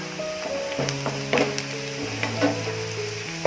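Frying for Hyderabadi chicken dum biryani crackles in a pan, with a steady sizzle broken by scattered clinks and scrapes from stirring, heard close and without speech.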